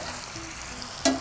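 Cabbage, snow peas and broccoli stir-frying for pancit canton, a soft steady sizzle ending in one sharp metallic clank of a utensil against the pan.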